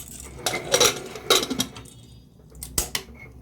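Metal lid set onto a pressure cooker pot of chicken stew, with several close, sharp clanking and scraping hits in quick groups, then a final clank after a short pause, with no talking.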